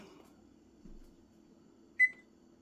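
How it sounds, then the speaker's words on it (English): Kitchen oven timer being set while cooking lemon pepper, honey glazed chicken pieces gives a single short, sharp electronic beep over a faint steady appliance hum, with no talking. "We're going to set our timer."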